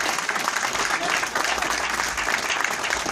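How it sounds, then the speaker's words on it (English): An indoor audience at a Chicago lecture applauds the curator of the Black History 101 mobile museum, with steady, dense clapping throughout. "that brother deserves a round of applause for all the hard work that he does"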